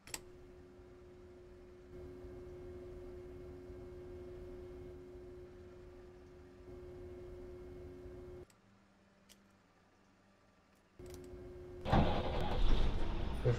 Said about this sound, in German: Wir fahren heute mit dem Bus, mit dem VDL-Bus in Ruhrgebiet.